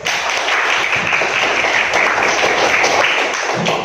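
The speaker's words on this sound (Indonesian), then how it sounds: "Tepuk tangan dulu." Steady applause from a classroom of students at a morning lesson in an Indonesian school, dense overlapping claps sustained at even loudness throughout with no talk over it.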